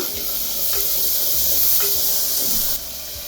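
Chopped medium onions sizzle and hiss loudly in an open pressure cooker while being stirred, with a steady bright frying noise and a few soft scrapes.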